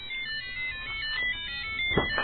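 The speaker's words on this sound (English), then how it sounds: "Get that, would you, Fez? Phone" A phone ringtone chirps in short electronic tones throughout, a thin warbling ring fairly close and steady, with a small bump of other noise near the end.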